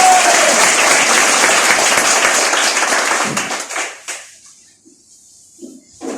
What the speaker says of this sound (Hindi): तो जबरदस्त तालियां सबके लिए।